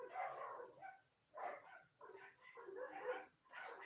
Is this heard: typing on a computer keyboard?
no